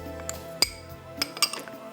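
Spices and onion go into a glass blender jar for kabab masala, making a few sharp clinks and taps against the glass, spaced out over two seconds, close and fairly crisp.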